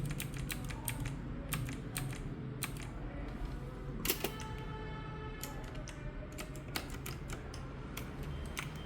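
A gaming mechanical RGB keyboard attached to an HP Envy 13 laptop clatters under steady typing, a close run of sharp individual key clicks at an uneven pace with no talking.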